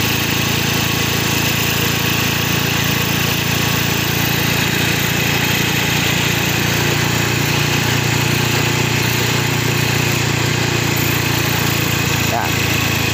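A Honda-style Mio Soul i125 scooter with a cylinder head leak idles steadily as it is adjusted at the throttle body, a close, even, buzzing engine drone that holds constant from start to finish.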